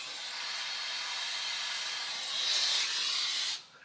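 Pressurized air hisses out through an opened valve on a Yamaha cooling system, a steady close hiss that swells louder near the end before cutting off sharply.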